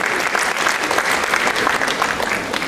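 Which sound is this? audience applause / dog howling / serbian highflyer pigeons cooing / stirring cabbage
audience applause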